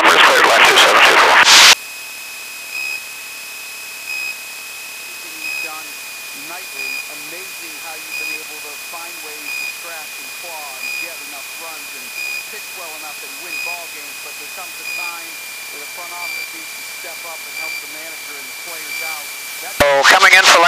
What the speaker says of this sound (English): So coming in for landing here, we reduce our power slightly so that we can slow down at the same time that we're descending.